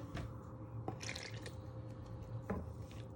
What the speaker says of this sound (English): Now you're going to add in your melted butter to all your dry ingredients and sugar.